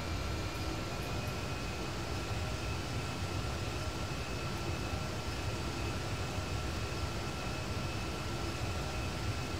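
Steady, loud jet-engine roar from an Airbus A350-900XWB in GTA 5 during pushback and taxi, a continuous drone with no talking.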